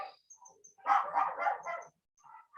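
A dog barks in a quiet room, a short run of three or four quick muffled barks at moderate distance, followed by a fainter yip, with no talking over it.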